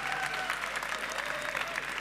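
An audience applauds steadily through a short burst at a sport panel session, the clapping dense and moderately close.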